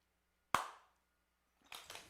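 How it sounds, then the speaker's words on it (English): A single sharp hand clap rings out in a quiet dance studio during a clogging class, followed after a pause by a short burst of scattered clapping. "Clap."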